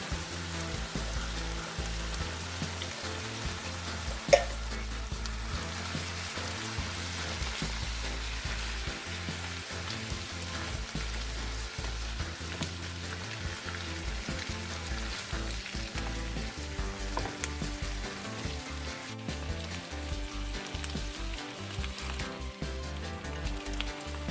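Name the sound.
diced potatoes and corn added to sizzling peppers and onions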